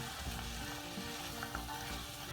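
Minced meat with fresh peas frying in a pan, a steady close sizzle and crackle with faint stirring, no voices.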